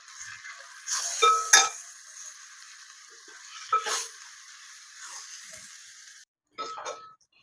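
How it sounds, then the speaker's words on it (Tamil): Onions and spice powder are stirred in a pan, with a few sharp metallic scrapes and clinks of the spoon against the pan over a faint background hiss, with brief pauses. "அப்படியே லேசாக அந்த பச்சை வாசனை போகிற வரைக்குமே நம்ம வந்து வதக்கி தரணுங்க"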